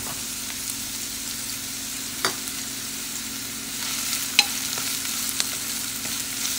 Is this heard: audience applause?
no